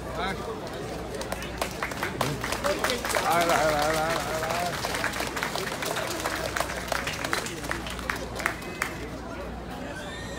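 A crowd applauds to welcome Chairman Eric Chu at the 2019 Jihai-year Yellow Emperor Xuanyuan worship ceremony. Steady clapping and crowd noise run through the whole span, with a voice talking over it.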